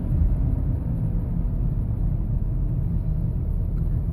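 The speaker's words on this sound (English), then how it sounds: "Sometimes there's a traffic jam, like there is now, and you just have to slow down." Cars in a traffic jam give off a continuous deep, low rumble, steady and fairly loud from start to finish, with no voices over it.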